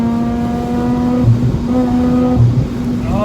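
A Mazda RX8's engine revs hard in short climbing bursts, its sharp tone rising and falling in two clear pulls, loud and close from inside the car.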